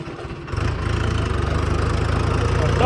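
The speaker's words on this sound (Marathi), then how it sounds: "आणि पहिले मी ट्रॅक्टर चालवतोय." A tractor engine runs at a steady, throbbing idle close by on a small village road, loud and continuous.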